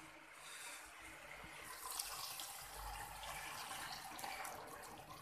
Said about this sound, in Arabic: وهنزل بميه سخنه